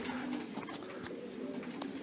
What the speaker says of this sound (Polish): Mamy, koledzy, następnego gołąbka.